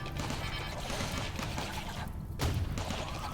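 Turret gunfire in the RimWorld video game, a dense, steady rattle of rapid shots running without a break at moderate loudness, with no voices over it.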